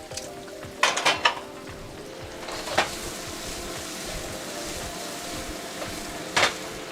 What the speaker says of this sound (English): I'm going to toss my onions in next.